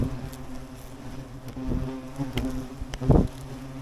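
Hornets buzz around their nest in a chimney, a faint continuous droning hum with a few louder passes close by near the end.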